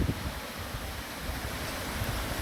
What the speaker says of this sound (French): Et là on arrive vers une des premières cascades principales.